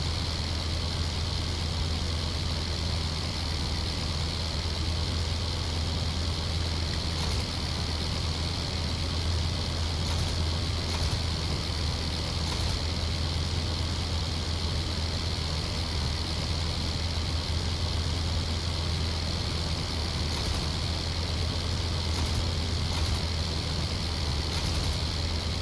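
Steady, unbroken drone of a Nieuport biplane's rotary engine held at full throttle in a World War I flight game, a loud constant roar with a low hum and a hissing upper layer, no pauses.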